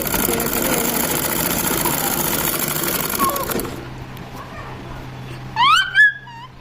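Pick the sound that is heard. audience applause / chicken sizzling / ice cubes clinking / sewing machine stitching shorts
sewing machine stitching shorts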